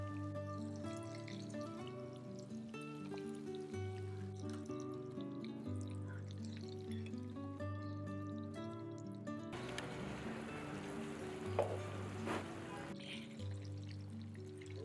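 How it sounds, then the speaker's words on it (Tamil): Mushrooms and curry leaves coated in rice flour frying crisp in hot oil, a faint steady sizzle and bubbling under quiet background music, with no talking. "நம்மளோட மஷ்ரூம் கருவேப்பிலை ரொம்ப அழகாக ஃப்ரை ஆகிட்டுருக்கு"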